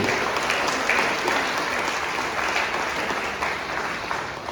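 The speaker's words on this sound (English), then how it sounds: "So clap to yourself now" A church congregation claps loudly at a parish mass, a dense, steady roar of many hands sustained throughout the clip at close range with no voices over it.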